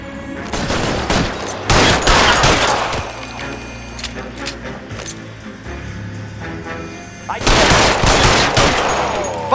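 A shootout in the video game LA Noire, with rapid bursts of automatic gunfire and single shots coming in loud clusters, separated by quieter stretches where game sounds and voices continue.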